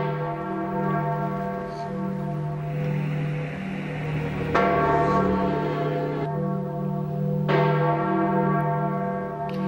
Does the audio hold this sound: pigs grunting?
no